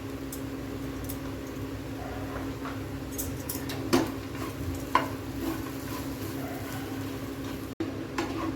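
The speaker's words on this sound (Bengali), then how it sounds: "দিয়ে এটাকে একটু নাড়াচাড়া করবো" A spoon stirs a filling of boiled potato and peanuts in a pan, soft scraping and squishing strokes over a faint sizzle, with a few sharper clinks against the pan.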